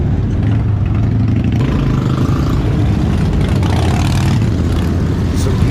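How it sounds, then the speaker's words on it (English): Hundreds of motorcycle engines rumble together during a festival unity ride in Bacolod City, a dense, steady low drone with occasional revs rising above the continuous crowd of idling and passing bikes. "Just listen to all these engines."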